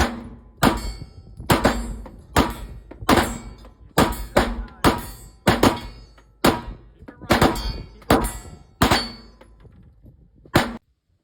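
A Springfield 1911 DS Prodigy 9mm pistol with a 5-inch barrel fires at a steel target outdoors, about a dozen sharp loud shots at an uneven steady pace, some with a metallic ring, then silence.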